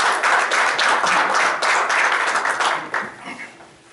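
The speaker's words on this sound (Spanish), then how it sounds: "Démosle un aplauso al licenciado Octavio." An audience at a men's congress applauds with dense, lively clapping that holds steady and then fades out toward the end.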